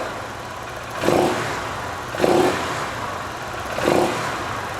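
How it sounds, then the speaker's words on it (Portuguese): A car engine, fitted with electronic fuel injection and tested during sensor diagnosis, revs up three times at steady intervals and drops back to idle between each rise, loud and close with no talking. "agora eu vou acelerar e desacelerar"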